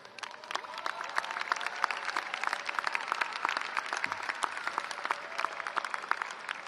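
Sustained audience applause at a university undergraduate commencement ceremony, a dense, steady patter of many hands clapping that holds at an even moderate level throughout.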